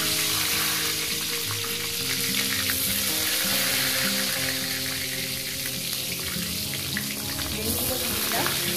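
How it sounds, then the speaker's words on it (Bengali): Eggplant slices frying in hot oil give a dense, continuous sizzle with bubbling and occasional stirring scrapes. It is loud and close throughout, with no voices. "এবার দিয়ে দেবো বেগুন।"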